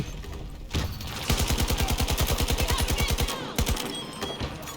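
Rapid automatic gunfire from the video game Battlefield 2042, a fast steady burst of shots after a single report, with a couple of trailing shots and game ambience around it.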